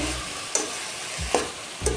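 Food sizzles steadily in a pan while a utensil scrapes and stirs it in three distinct strokes, close up with no talking.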